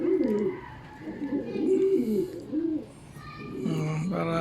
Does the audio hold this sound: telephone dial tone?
no